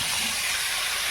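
Fried potatoes tipped into a pan of sizzling, well-cooked spice paste give off a steady, hissy sizzle with no voices over it.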